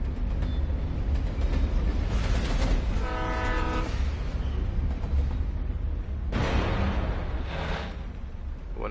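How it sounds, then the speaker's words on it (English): A passing train in the video game Alan Wake Remastered: a heavy rumbling rattle with a sustained horn blast midway and a burst of clanking later, loud and close, with no speech. "That's just a train, right?"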